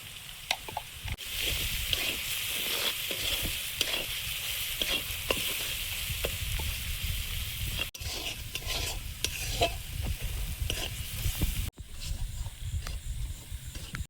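Ground turmeric, cumin, coriander and salt fry in oil for potato curry, a steady close sizzle with repeated scraping stirs of a spatula running throughout, brief pauses near the middle and end.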